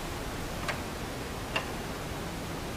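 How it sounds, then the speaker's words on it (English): Circuit breaker on a 440 HVA wind turbine charge controller being manually tripped and reset: two faint, sharp clicks a little under a second apart over a steady hiss of background noise. "And you must reset it until you hear that click."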